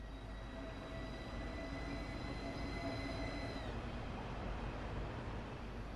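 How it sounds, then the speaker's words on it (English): A Class 395 Javelin high-speed electric train, built by Hitachi, in the Train Sim World 2 game runs with a steady loud rumble, whining motor tones that shift and fade partway through, and continuous wheel noise. "This particular train is a Class 395 Javelin built by Hitachi in Japan for European operation."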